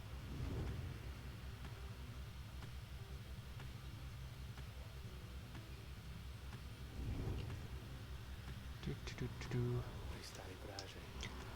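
A thunderstorm rumbles over the Isle of Culmer in the video game Pyre, with deep rolls of thunder near the start and again later, set against steady storm noise and a layered game soundtrack.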